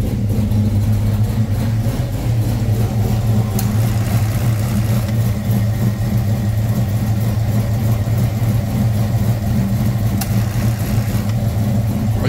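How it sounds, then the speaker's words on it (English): A 1989 Foxbody convertible with a Coyote engine swap idles steadily and loudly up close, a constant rumbling drone; the AC compressor clutch engages with faint clicks that are barely distinct over the engine. "You see the AC clutch does kick in."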